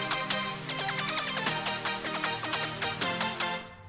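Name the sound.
main sawtooth synth in Surge XT, solo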